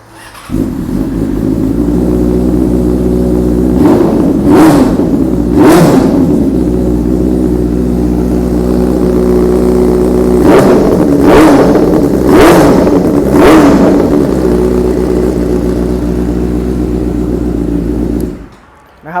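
Red 2016 Benelli BN600i motorcycle with an inline-four engine, revved hard at close range: a steady loud idle broken by four or five sharp throttle blips in two clusters, then cut off near the end.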